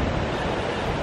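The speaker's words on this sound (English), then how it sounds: "To Sutherland Falls, highest waterfall in New Zealand" Sutherland Falls, New Zealand's highest waterfall at 580 metres, gives a steady, loud broadband roar of falling water with no break or voices.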